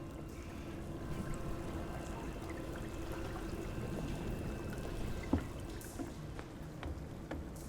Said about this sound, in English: I heard something moving in the water.